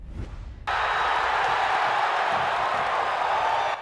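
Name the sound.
crowd cheering at a sellout Hoosier football game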